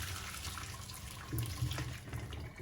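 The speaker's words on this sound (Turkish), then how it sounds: "Patatesi süzüyorum." Hot water from boiled potatoes pours and splashes steadily through a colander into a sink, a continuous close rushing sound with a brief louder gush partway through.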